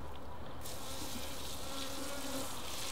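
Honey bees buzz in a dense, steady swarm while hives are being moved, a close continuous drone with no talk.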